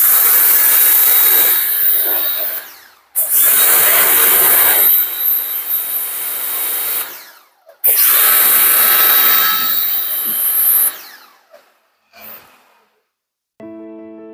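Orion Superjet 100E jet pump steam washer spraying water in three loud, close, hissing bursts, each a few seconds long with short pauses between. The spray fades out near the end, followed by a brief tonal hum.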